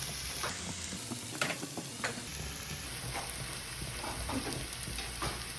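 Arborio rice and shallots frying and being stirred in a pan, a steady close sizzle with scraping stir strokes throughout, no talk.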